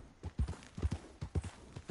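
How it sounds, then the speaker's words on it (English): Horse hooves clip-clop in uneven, close groups of soft thuds in the video game Red Dead Redemption 2, quiet and alone with no talk. "Got some horses."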